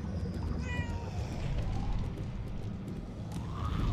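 A single short cat meow in the video game Murdered: Soul Suspect, heard early over a steady low game ambience, fairly close and distinct, no talking.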